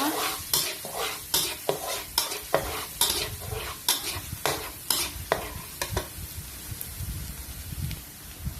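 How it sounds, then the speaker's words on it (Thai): Garlic stir-fried in a pan for Thai pork rad na, with a steady close sizzle and repeated scraping strokes of a spatula in an irregular rhythm, no voices. "ผัดกระเทียมให้หอมนะคะ"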